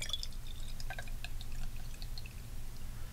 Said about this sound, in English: And I'm going to fill this with hot water. This is my tea kettle with hot water.